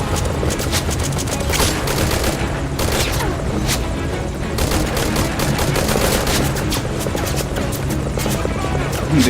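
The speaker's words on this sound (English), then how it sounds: "They try to shoot you down" Sustained gunfire from soldiers in Metal Gear Solid 5: Ground Zeroes, a dense fusillade of rapid shots over a steady rumbling, helicopter-like drone, loud and continuous throughout.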